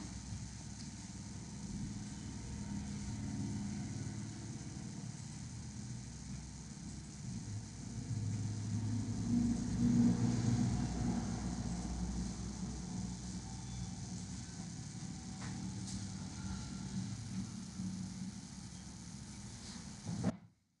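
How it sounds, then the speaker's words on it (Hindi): Steady low rumble of road traffic from a nearby road, cars and motorbikes idling and passing at a distance, continuous and faint behind an indoor room with no one talking. "थोड़ा सा गाड़ियों की आवाज़ आ सकती है"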